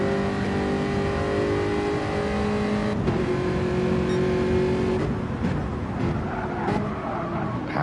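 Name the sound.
race cars with engines revving during a close race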